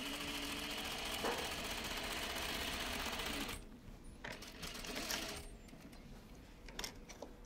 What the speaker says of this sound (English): I'm stitching with a new needle.